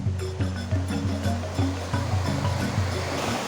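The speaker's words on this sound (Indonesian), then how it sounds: "Kita menelusuri sungai-sungai seperti ini dengan air yang sangat jernih teman-teman" Clear river water rushing through a jungle stream, a loud steady wash with recurring low gurgling pulses, close and continuous with no voices.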